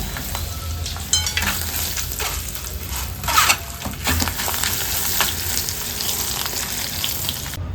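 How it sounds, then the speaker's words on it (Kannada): Cut dried red chillies sizzle and fry in oil in a pan, a steady close crackling hiss with occasional louder pops and stirring scrapes, no voices. "ಕಟ್ ಮಾಡಿದ ಒಣಮೆಣಸಿನಕಾಯಿನ ಹಾಕಿ ಫ್ರೈ ಮಾಡ್ಕೊಳ್ಳೋಣ"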